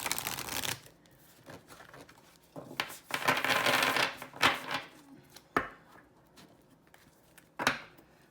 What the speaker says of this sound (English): So I'm going to give a quick shuffle